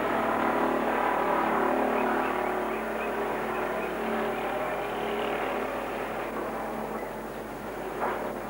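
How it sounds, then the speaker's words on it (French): Busy street traffic in Luang Prabang, Laos, with motorcycle taxis passing near the central market, a steady broadband engine and road roar throughout and a brief louder pass near the end. "Nous prendrons souvent ces mototaxis pour nous déplacer."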